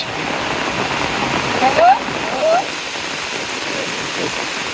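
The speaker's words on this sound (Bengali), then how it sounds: "রে বৃষ্টি রে" Steady rain pours down in a continuous, even hiss, with a few brief sung notes rising faintly above it.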